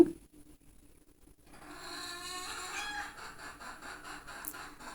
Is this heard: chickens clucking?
yes